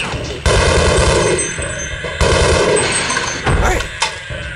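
A grenade explodes in the Half-Life video game, heard as loud, sharp booming blasts with rumbling decays, three heavy hits spread across a few seconds.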